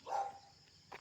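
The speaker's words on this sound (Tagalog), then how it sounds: "May aso." A single short dog bark, fairly close, followed by a faint second yelp in an otherwise quiet outdoor setting.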